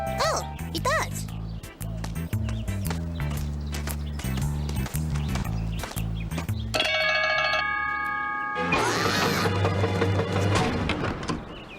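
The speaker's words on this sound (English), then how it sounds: "Try ringing the doorbell." A doorbell chimes clearly in the latter half with bright ringing tones, following a stretch of animated cartoon voices and musical background.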